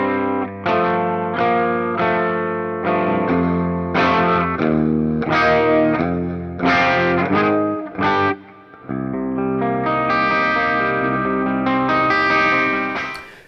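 An overdriven 2017 PRS SE Mark Holcomb electric guitar plays a series of chords and riffs through an amp, with some effects, strummed rhythmically for several bars.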